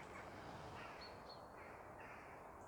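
A crow caws a few times out in the open countryside among autumn trees, the calls faint and distant over a steady wash of outdoor ambience.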